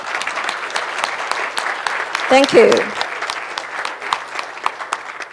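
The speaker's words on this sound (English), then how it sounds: "Please join me in a round of applause for these speakers." Audience applause closing a policy panel session, a full room clapping steadily and fairly close, with a short spoken thanks heard over it near the middle.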